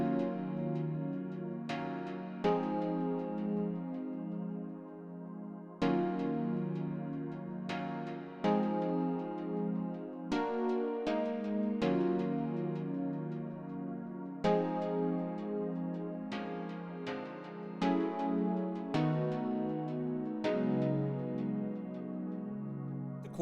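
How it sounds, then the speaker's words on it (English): Early 90s R&B style chord stack of electric piano, acoustic piano from Analog Lab, a pad and a DX7-derived synth patch: warm sustained chords that change every second or two in a steady progression, full and upfront, with no talking. "Mostly the ensemble is comprised of an electric piano, a regular acoustic piano played by Analog Lab, a pad patch, and a 6-string semi-shin patch"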